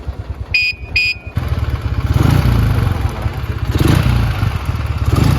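A 1966 Marusho Magnum 500cc motorcycle, a Japanese machine with a BMW-style engine, runs steadily and loudly up close with a rough, rapid pulsing idle, preceded by two short electronic beeps.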